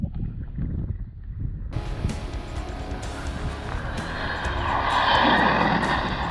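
An off-road RC car runs flat out at full throttle, its high, whining motor and rushing wind noise swelling louder toward the end as it races close by the microphone. No voices are heard.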